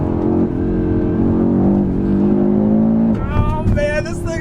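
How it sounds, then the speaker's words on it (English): A 2022 Audi RS3 accelerating hard, its loud engine drone rising steadily before breaking into sharp exhaust crackles and pops near the end, heard close up from inside the car. "Oh, we got a crackle out of that exhaust."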